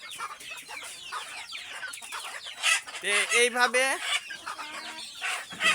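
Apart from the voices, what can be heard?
chickens clucking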